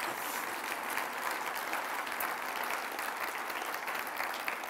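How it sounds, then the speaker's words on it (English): A church congregation claps steadily for a few seconds, a dense even patter of many hands heard from a moderate distance. "Can we give a clap offering to the Lord for that?"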